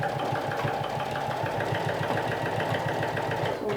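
A sewing machine stitches a piping seam on a dress with a 1/4-inch seam allowance, running steadily with a fast, even mechanical rhythm that stays close and constant throughout.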